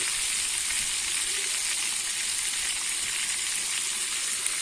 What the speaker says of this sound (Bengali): আর অল্প করে লবণ দিয়ে আমি মাংসটা একটু ভালো করে ভেজে নেব